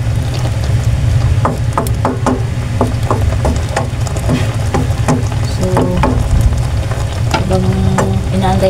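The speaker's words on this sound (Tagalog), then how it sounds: "Haluin natin para po mapunta sa ilalim." Papaya and shrimp simmering in coconut milk are stirred in a pan, a steady bubbling sizzle punctuated by repeated sharp scrapes and clinks of a utensil, close and loud.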